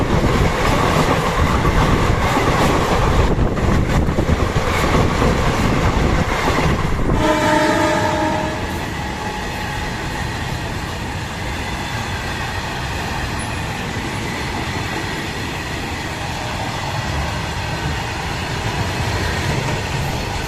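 Siddhabali Jan Shatabdi express train running, a loud continuous rumble with rattling carriage noise, a brief horn-like tone partway through, then a steadier, slightly softer roll.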